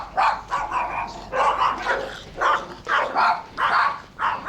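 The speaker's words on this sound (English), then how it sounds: "It's like dog barking alley." Dogs barking in a back alley in Pattaya, Thailand, at night: a steady run of loud, close barks, roughly two or three per second in uneven bursts, with a few yips mixed in.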